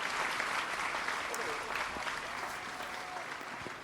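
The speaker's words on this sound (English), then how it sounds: "crowd seems to like him" Steady crowd applause and cheering fills a Madden 25 football video game scene, constant and fairly loud throughout, with a commentator's voice talking over it.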